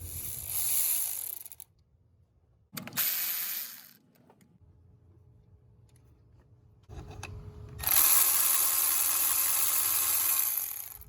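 A ratchet loosens the 12 mm nuts and bolts on the thermostat housing of a 2002-2006 Nissan Altima or Sentra 2.5L, giving quiet bursts of clicking separated by pauses, ending in a longer, louder stretch of close mechanical ratcheting.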